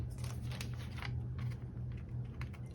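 Scissors snipping paper while trimming pieces for a Hobonichi Cousin and Weeks monthly planner setup, a few soft, close cuts over a steady low hum in a quiet room.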